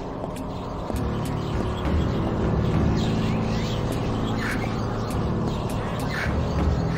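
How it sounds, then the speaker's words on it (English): A pet talking bird squawks and calls repeatedly in the video game Shenmue 2, with harsh crow-like cries over a busy background of ambient game noise. "Heard Yuan's got that talking bird for a pet."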